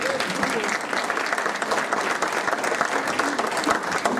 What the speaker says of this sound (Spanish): José Woldenberg, claro que sí, pueden aplaudir.